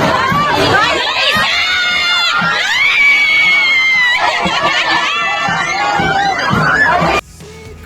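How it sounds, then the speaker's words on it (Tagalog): A crowd on a street shouts and cheers loudly and continuously, with children's excited cries rising above the roar before it drops off abruptly near the end. "Hindi magkamayaw ang sigawan at tuwa ng mga tao nang makita nilang naglalakad si Loisa"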